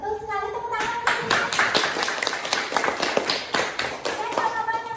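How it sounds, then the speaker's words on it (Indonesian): Children clap together in a classroom during a lesson on animals, a run of sharp, fairly loud claps in quick irregular rhythm lasting most of the moment, with young voices mixed in at the start and end. "Iya, betul sekali, tepuk tangan."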